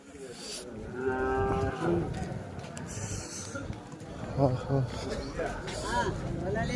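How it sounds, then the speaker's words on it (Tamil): Cattle, including old cows, at a village livestock market in Vaniyambadi give several long, drawn-out moos close by, among market bustle and people talking nearby. "பாவம் இங்கே பாரு இதெல்லாம் நல்லா வயசான மாடுங்க"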